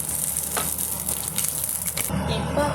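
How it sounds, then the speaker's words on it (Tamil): Green chillies frying in hot oil in a pan, a steady close sizzle with a few stirring scrapes, the hiss shifting in tone near the end. "நான் இப்போ பச்சை மிளகாய் ஃப்ரை பண்ணிடலாம்"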